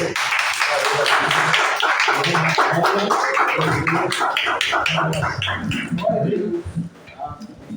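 Church congregation applauding during a doctrine service, steady rhythmic group clapping in unison with voices singing or calling out over it, fading toward the end.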